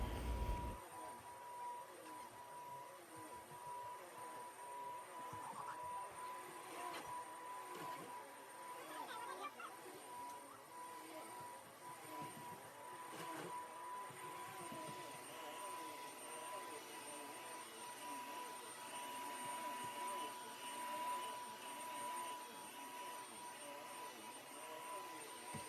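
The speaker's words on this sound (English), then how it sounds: "I'm picking up this dog bed that one of the dogs decided to destroy, and I'm going to vacuum" A household vacuum cleaner runs steadily during home cleaning after a destroyed dog bed is picked up, a continuous droning whine with a faint steady tone, persisting throughout without break.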